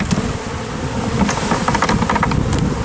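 Three pounds of packaged bees buzz loudly up close as the side of the bee package opens during a hive install, a dense continuous drone with scattered brighter flicks of individual bees.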